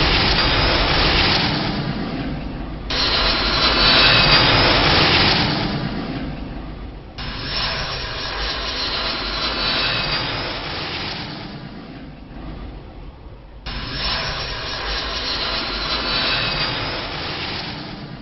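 Aircraft jet engine roar, loud and continuous with a broad hissing rumble that swells and dips in sections, heard alone without voices.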